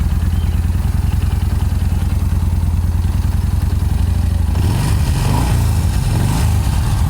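A Yamaha Star Bolt R-Spec motorcycle with stock exhaust idles with a fast, even chugging beat, then the note shifts and roughens as the throttle is blipped near the end.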